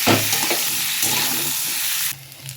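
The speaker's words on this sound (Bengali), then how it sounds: "এরপর এটা একটু ভেজে নেব" Food frying in oil in a kadai with turmeric and salt, a steady loud sizzle with stirring scrapes, dropping to a quieter crackle near the end.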